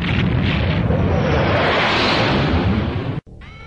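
A thunder cannon fires: a loud, sustained explosive roar rumbles continuously for about three seconds, then cuts abruptly, followed by a faint whooshing tail.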